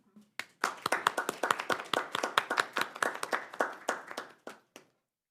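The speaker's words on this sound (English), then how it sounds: "I'll just ask for a round of applause." Audience at a poetry panel breaks into applause, a dense run of close, crisp handclaps that starts after a couple of isolated claps, holds steady for several seconds, then thins out to a few final claps and stops.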